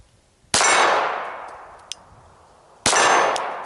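Bullets strike a steel target on an outdoor shooting course, two sharp metallic clangs about two seconds apart, each ringing out and slowly decaying, with a faint distant pop between them.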